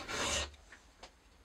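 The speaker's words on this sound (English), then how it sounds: "I had to file this by hand." A metal part for a sewing machine ruler edge guide is hand filed, giving one loud, close rasping stroke followed by a few faint scrapes and a sharp tap at the end.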